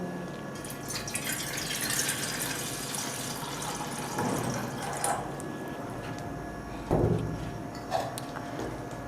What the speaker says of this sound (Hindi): पहले हम इसमें थोड़ा सा पानी डाल लेंगे।